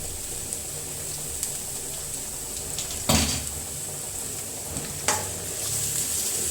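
Carrot sautéing in a pan for upma, a steady sizzle throughout with a few sharp scrapes and knocks of a spoon stirring against the pan, including one louder clatter midway.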